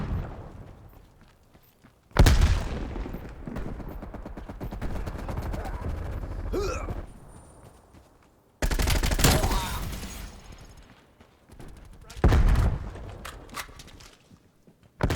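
Gunfire in an online first-person shooter game on a hardpoint mode, with dense sustained bursts of automatic fire in several loud stretches broken by short pauses and brief quieter moments.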